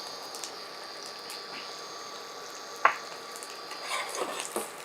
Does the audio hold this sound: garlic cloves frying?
yes